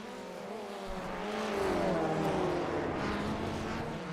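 Formula 1600 race cars lapping Oulton Park in the iRacing simulator, a loud sustained engine drone with rising and falling pitch as cars accelerate and pass through, steady and close.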